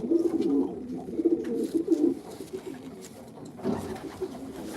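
Racing pigeons in a breeder's loft coo steadily in soft, low, overlapping calls, close by and fairly loud, with a brief lull before the cooing picks up again near the end.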